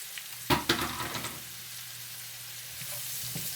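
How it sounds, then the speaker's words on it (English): A whole onion drops into a hot pan and frys, giving a loud burst of sizzling and stirring at first. The sound then settles into a quieter, steady crackle with no voices. "Let these fry up kind of good"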